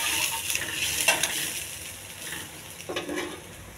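Mustard seeds, cumin, curry leaves and chopped onion frying in oil, a moderate close sizzle with a few clinks and scrapes of stirring against the pan.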